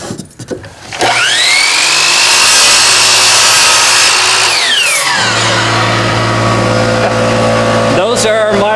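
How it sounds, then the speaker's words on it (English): A miter saw cuts wood at a woodworking camp: a loud, steady motor whine spins up, holds, then winds down and restarts, after a brief knock of handling at the start. "Those are our miter box cuts."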